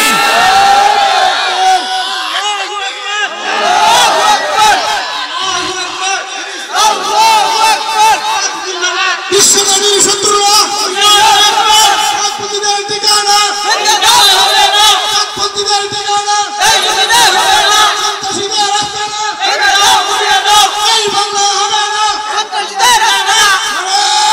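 Large crowd at an outdoor Bangladeshi religious gathering roars back in loud, repeated chanted waves, answering a lead call, dense and sustained throughout with mass voices and little pause.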